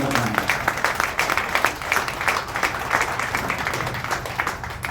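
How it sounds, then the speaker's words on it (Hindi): An audience at a leadership training meeting applauds, a moderate, steady patter of many hands clapping, slightly distant, with a faint voice underneath. "जोरदार तालियों के साथ स्वागत करता हूं"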